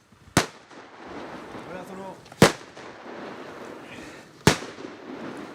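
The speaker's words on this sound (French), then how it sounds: "Fort heureusement, il ne s'agit que de simples grenades à plâtre." Plaster training grenades going off during a French army commando course, three sharp loud blasts about two seconds apart, with shouting voices and commotion in between.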